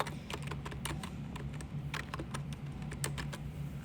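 Someone typing a name on a computer keyboard, a close run of quick, light key clicks in an irregular rhythm over a steady low hum.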